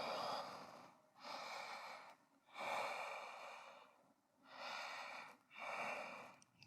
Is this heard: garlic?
no